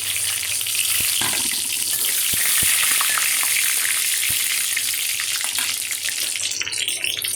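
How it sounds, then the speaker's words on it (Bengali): Tempering spices drop into hot oil in a wok and sizzle loudly, a dense crackling hiss close by and sustained throughout, dotted with a few sharp pops and utensil clicks, with no voices. "কড়াতে অলরেডি তেল দিয়েছি। সাথে এবার তেলটা গরম হয়ে গেছে, ফোড়নটা দিয়ে দিচ্ছি।"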